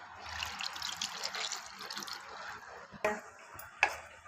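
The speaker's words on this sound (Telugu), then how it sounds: "కూరకు తగినన్ని నీళ్లు పోసుకోండి." Water is poured into a pan of gongura prawn curry, a soft close trickle and splash for about two and a half seconds, followed by two sharp utensil clinks.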